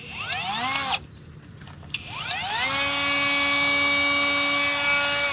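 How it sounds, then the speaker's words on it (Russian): Angle grinder cutting into seized wheel hub bolts on a Ford Explorer, loud and close, with a high whining tone that starts, drops off near the first second, restarts and then holds steady and strong to the end. "Теперь настало время тяжелой артиллерии,"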